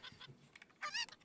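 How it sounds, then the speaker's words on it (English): Chickens attacking in the video game Project Zomboid make short honking squawks, a few rapid calls in quick succession, fairly clear and close, with no voices. "As I'm being attacked by chickens."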